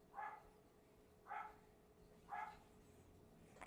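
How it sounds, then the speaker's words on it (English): A neighbor's dog barks three times at roughly one-second intervals, distant and fairly faint, set against a quiet indoor room with a low steady hum. "if you hear a dog barking in the background"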